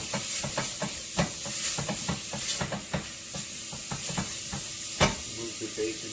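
Bacon frying in its own fat in a pot for a smoked turkey and turnip greens soup, a steady sizzling hiss with repeated light scraping taps from stirring, close and moderately loud.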